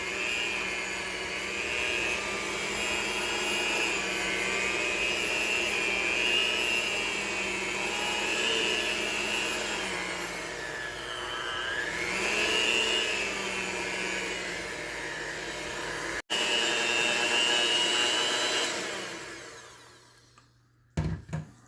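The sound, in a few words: stand mixer with whisk attachment mixing cheesecake batter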